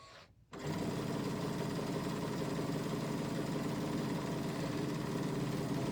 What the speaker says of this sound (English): So she did that all on the Bernina sit-down machine.